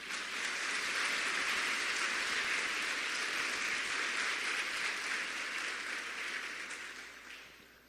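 A church congregation applauding during a Sunday service, a dense, sustained wash of many hands clapping that holds steady and then slowly fades toward the end, no voices.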